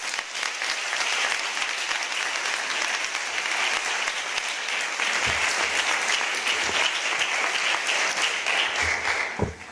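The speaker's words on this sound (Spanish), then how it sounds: "Un aplauso" Sustained audience applause fills a conference hall at a high-level United Nations trade and development event in Geneva, Switzerland, steady and dense throughout with no voices over it.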